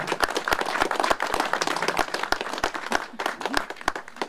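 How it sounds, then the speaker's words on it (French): A crowd applauds volunteers at the inauguration of a prune drying shed in Saint-Julien-du-Verdon, with dense, steady clapping and a few sharper, louder claps standing out, no talk over it. "je pense que déjà à ce stade, on peut les applaudir"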